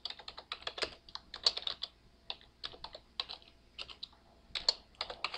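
Rapid, uneven keystrokes clatter on a computer keyboard in short bursts with brief pauses, close and clear, with no talking.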